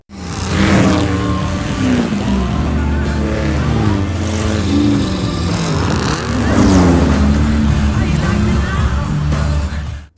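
Stolen rare sports car pushed flat out: loud engine revving and climbing through gears with tire and road noise, up close, under dramatic music.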